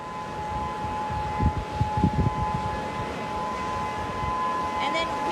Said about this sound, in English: you can hear a hurricane siren in the background if you listen there.